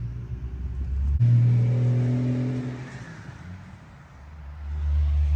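A 2JZ engine from a 2001 Lexus IS300, swapped into a Jeep Cherokee XJ, revs up with a rising rumbling roar, then falls back to a lower idle rumble. It sounds close and loud, with no talk.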